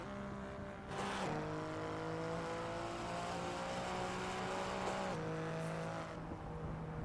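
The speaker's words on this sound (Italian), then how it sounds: "Come suono mi sembra che è un 6 cilindri, V6." V6 engine of a car in a racing video game, revving steadily with rising pitch, shifting gears twice with brief dips, loud and continuous with no talk over it.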